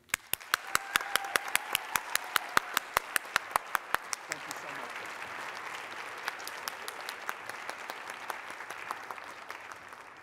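Audience applause for employer partners at a centennial celebration of cooperative education, dense clapping throughout with regular sharp ticks in the first few seconds, then steady, moderately loud applause continuing to the end.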